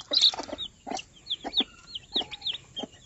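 Native chickens in a small yard give a run of soft, close clucks and short chirpy calls at an uneven rhythm, with no one speaking.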